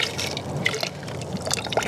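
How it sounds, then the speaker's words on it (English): Cold water is poured into a cowboy coffee pot over a rocket stove outdoors, a steady splashing trickle with faint gurgles, close and continuous. "And just pour that cup of cold water in there."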